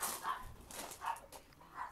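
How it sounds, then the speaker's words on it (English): Dogs bark a few times in the distance, three spaced, faint yips over quiet outdoor background. "Dogs are barking."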